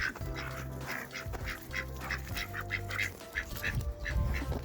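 Farm ducks quack in quick repeated bursts close by, with other poultry calling along with them, over a low steady hum in the background.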